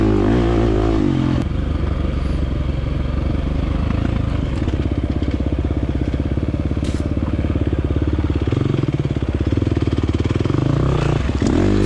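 KTM 350 dirt bike fishtailing up a hill during a C-class off-road race at Pipsico, its engine loud and close, revving hard and continuously with crackling throttle bursts throughout.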